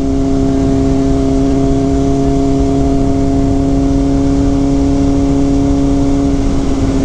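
A car engine holding steady at 4,000 RPM in fourth gear at about 55 mph gives a constant, loud droning hum with road and wind noise, unbroken and steady throughout.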